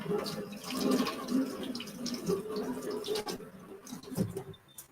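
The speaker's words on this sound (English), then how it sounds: "Rinse that off so I'm not dripping coconut everywhere." Running tap water splashes over hands as coconut cream is rinsed off in a kitchen sink, a quiet, continuous trickle with small drips and splashes close by.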